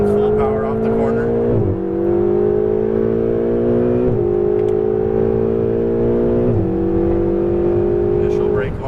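A Ferrari 488 on a racetrack accelerates at full power out of a corner, its engine note climbing steadily through three upshifts with brief dips between gears, loud and close throughout.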